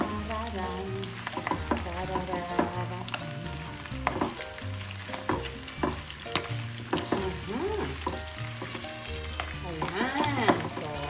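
Garlic frying in a pan sizzles loudly and continuously as it is stirred, with frequent scrapes and clatters of the utensil against the pan.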